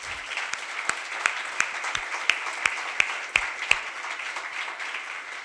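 An audience applauds steadily in a hall at a Yavatmal session, a dense wash of clapping with a few sharper individual claps standing out, continuous and moderately loud.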